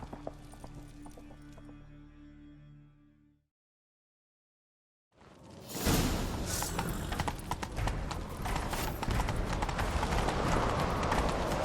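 Horse hooves in The Witcher 3: Wild Hunt clip-clop at a steady gallop, loud and close, after a short stretch of other sound and a moment of silence.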